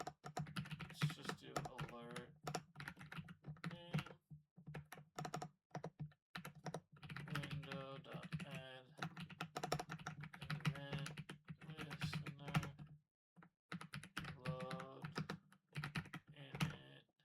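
Steady typing on a standard computer keyboard, a dense run of close, crisp key clicks with short pauses between bursts, carried on in a quiet room with a low electrical hum underneath.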